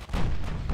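Heavy naval gunfire from a battleship engagement in the game Ultimate Admiral: Dreadnoughts, a dense, rumbling barrage of booming shots rolling continuously and loud without pause.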